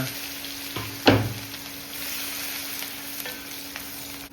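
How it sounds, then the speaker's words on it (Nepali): Garlic dropped into hot oil in a kadai for a broccoli curry, a sharp burst of sizzling followed by a steady close frying hiss, with a stirring clatter at the start and a faint steady hum underneath. "तेल पनि पाकिसक्यो अनि मैले चाहिँ लसुन हालिदिएँ तेलमा।"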